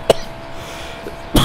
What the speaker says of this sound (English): Coughing so hard it's making my eyes water.